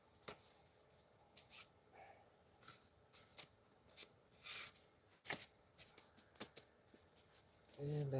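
Quick papery riffles and snaps of cards being shuffled, coming in short bursts with brief pauses, close by and fairly quiet.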